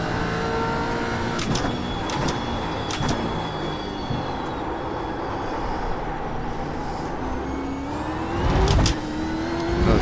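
A Gen 3 V8 Supercar in iRacing at the Algarve (Portimão) circuit sustains a loud engine drone, with pitch sweeps marking quick gear changes and a brief louder surge near the end, and no talk.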